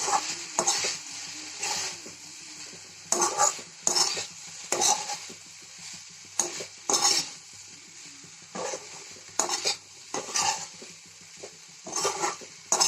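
Cauliflower, peas and potato masala being stirred in a pan with chilli powder, bursts of spoon-on-pan scraping every second or so over a steady low sizzle, close and clear with no talking.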